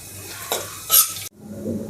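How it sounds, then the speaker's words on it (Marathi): Cumin and mustard seeds splutter in hot oil, heard as close crackling and sizzling with a few sharp pops and a brief bright hiss, under a faint clink of a utensil against the pan. "अर्धा चमचा जिरं आणि अर्धा चमचा मोहरी छान असा आपल्याला फुलवून घ्यायचं आहे"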